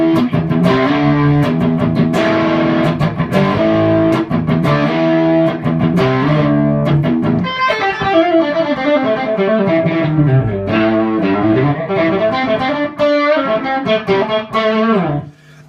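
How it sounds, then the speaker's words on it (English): Egnater Renegade guitar amplifier played with the gain up past halfway, giving a thick, saturated overdrive: loud, dense chords and riffs with ringing sustain, continuous from start to finish. "Put the gain on, and then you get some really, really thick overdrive from this."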